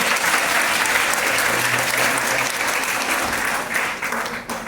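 A seminar crowd of children and adults claps loudly and continuously, a thick wash of hand claps that thins slightly and begins to fade in the final second.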